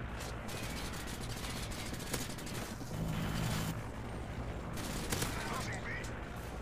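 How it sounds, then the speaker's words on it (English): Rapid gunfire bursts in Call of Duty: Modern Warfare 3, with shots fired through a wall, crackling densely and steadily throughout under a continuous layer of game noise. "Shoot him through the wall."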